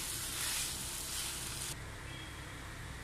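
Beef and koorka dry fry sizzling steadily in a pan as it is fried and stirred, a continuous close hiss that drops slightly in brightness partway through.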